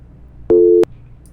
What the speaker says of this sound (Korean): 갑자기 전화가 끊겼다.